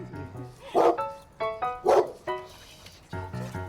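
A pack of large dogs barks in bursts, several overlapping woofs and yips close by with short gaps between volleys, some whimpering tones mixed in.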